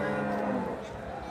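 An Australian-breed dairy cow lows once at a Bangladeshi cattle market: a deep, drawn-out moo that fades after about a second against a busy market background.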